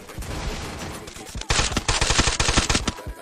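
Rapid gunfire in a video game, sparse shots at first, then a dense burst of automatic fire that stays loud and close, with faint voices beneath.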